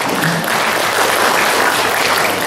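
Sustained applause from a university audience in Bandung, a dense even wash of many hands clapping steadily throughout at full, close volume with no break.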